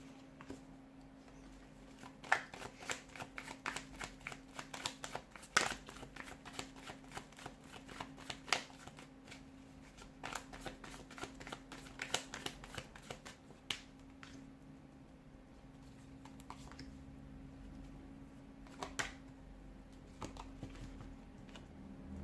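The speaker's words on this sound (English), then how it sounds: "give the cards a shuffle" Tarot cards being shuffled in a steady run of crisp riffling clicks and snaps for over twenty seconds, close and fairly quiet, with a constant low hum underneath and no talking.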